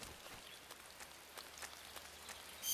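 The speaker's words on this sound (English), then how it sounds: "It's starting to rain." Light rain patters steadily in the stealth game Metal Gear Solid 3, soft scattered drops ticking over a quiet outdoor backdrop with no talk.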